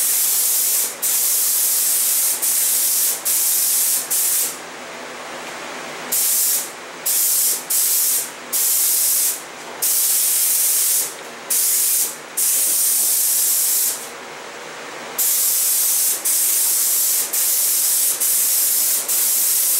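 A paint sprayer hisses loudly as it lays paint onto interior doors, in long continuous bursts broken by short pauses and a run of quick on-off passes.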